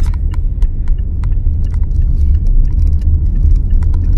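A car being driven in Saudi Arabia gives a steady, close interior rumble of engine and road noise, broken by occasional light clicks and taps.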